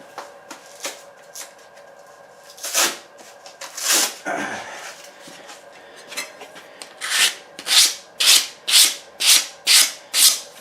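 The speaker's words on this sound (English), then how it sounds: "still have a little bit of a burr on there, but what you can do is just get a piece of sandpaper" Sandpaper rubs a freshly filed edge of a ghost trap prop side plate to remove a burr. A few scattered strokes give way to a steady run of about eight quick, close, rasping swipes.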